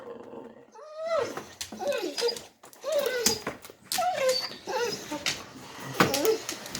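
A dog barks and growls on command in a home, a run of sharp repeated barks and rough growly vocalizing, loud and close, with no talk over it.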